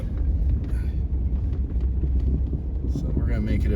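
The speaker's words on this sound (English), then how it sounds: "That's rough on the old truck." An old truck grinds along a rough, snowy gravel mountain road, a low continuous rumble and bumping under intermittent talk.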